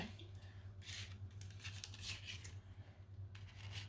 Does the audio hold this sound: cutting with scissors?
yes